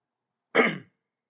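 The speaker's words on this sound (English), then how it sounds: "Excuse me, clearing my throat." One short, gruff throat clearing, close and fairly loud, surrounded by silence.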